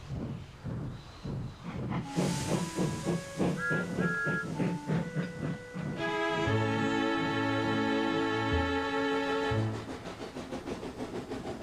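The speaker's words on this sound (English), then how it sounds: "Gordon puffed away again" A cartoon steam locomotive puffs away in rhythmic chuffs, then a sustained steam hiss and whistle-like tones sound over music, fairly loud and near.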